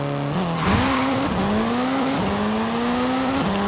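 Mitsubishi Evo 8 drag launch in Forza Horizon 5: a loud, close engine revs and climbs through several gear shifts, with each upshift dropping the pitch before it rises again, over a light tire hiss.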